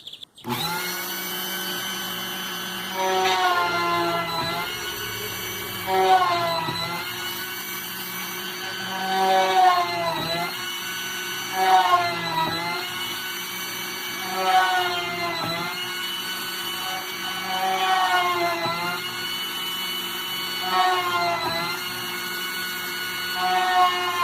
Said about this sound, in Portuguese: eu vou começar a fazer todas as perfurações da chapa